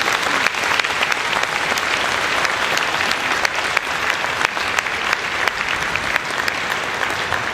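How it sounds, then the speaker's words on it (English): Enthusiastic audience applause for high school honor bands at a symphonic band concert, dense and sustained clapping from a large crowd throughout, loud and unbroken. "How about a big round of applause for those people?"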